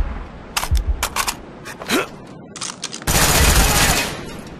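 Rapid gunfire from Call of Duty: Black Ops, a string of sharp shots through the first half and then a loud sustained burst to the end, close and dominant with no talking.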